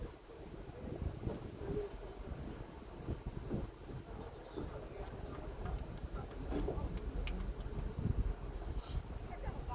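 A Magic Kingdom parking lot tram rolls along with a steady, rumbling low drone and wind buffeting the microphone, occasional clatters and thumps rising over the continuous noise, with voices faintly mixed in.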